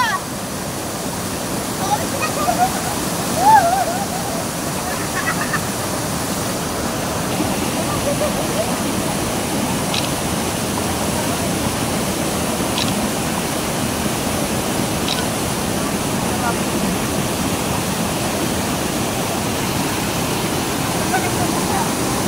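Secret Falls waterfall in Bulacan roars in a steady, loud, continuous broadband rush, with a faint voice briefly audible early on.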